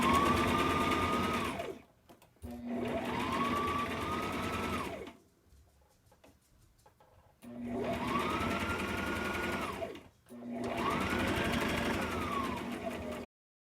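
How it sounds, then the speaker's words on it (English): Domestic sewing machine stitching a donut pillow with a back stitch, four sustained whirring runs that rise and settle, separated by short pauses and one longer gap, close and clear with no talk. "got it lined up next to my presser foot, back stitch, and I'm just going to spin it as I go."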